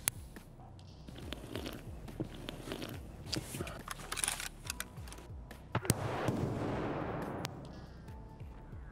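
Gunfire in Escape from Tarkov on the Interchange map: scattered sharp shots and short bursts echo through a busy, cluttered soundscape, with a louder crack around the middle and a denser rumble of fire toward the end.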